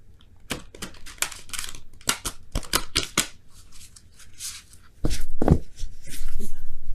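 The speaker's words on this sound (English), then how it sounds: "one more shuffle that way" Large tarot oracle cards being shuffled by hand, a run of crisp riffling flicks and slaps up close, with a louder burst of card handling toward the end.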